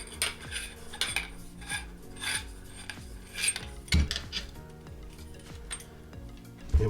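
Unscrewed barrel assembly of a JSAR Hawk airgun sliding off, with close metallic scraping, rubbing and light clinks in uneven strokes and a couple of sharper knocks near the end.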